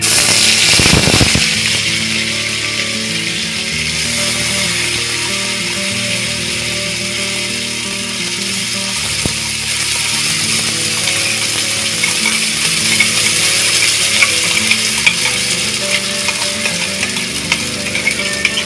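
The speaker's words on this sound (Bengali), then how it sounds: "এবার আমি এই পেস্টটা দিয়ে দিচ্ছি কড়াইতে" Spice paste frying in hot mustard oil in a kadai with black cumin already added: a steady, close crackling sizzle that runs unbroken, with a few sharper pops near the start.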